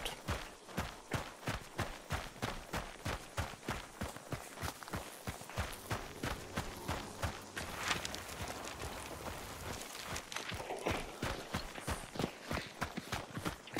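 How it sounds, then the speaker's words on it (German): Horse in Hunt: Showdown 1896, its hooves clip-clopping in a fast, steady gallop at moderate distance, repeated beats running through the whole stretch with no talking. "Pferd."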